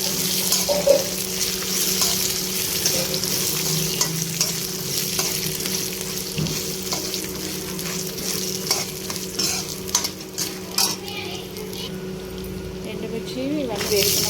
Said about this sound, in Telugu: ఎండుమిర్చి వేసుకొని మంచిగా కింద పెట్టి ఫ్రై చేసుకోవాలి